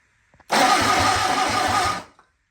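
Starter motor cranks a Sunbeam Alpine engine that will not catch, its distributor not spinning; a loud, close, rhythmic churn lasting about a second and a half, then stopping.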